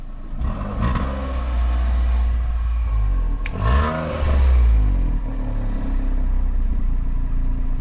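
A Toyota Aygo's small engine runs through a used exhaust, idling with a steady drone before rising and falling through a few quick revs. It stays close and loud, and no one speaks.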